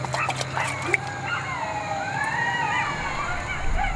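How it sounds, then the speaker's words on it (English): Coyotes howl in the distance outdoors, their rising and falling wavering cries overlapping steadily for several seconds at moderate volume, with no talk over them. "So we got coyotes howling in the back."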